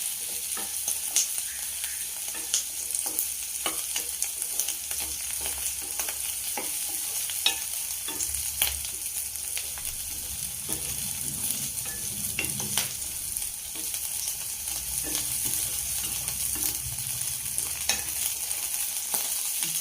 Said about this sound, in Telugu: చూడండి సగం వేగిపోయిన ఉల్లిపాయలు.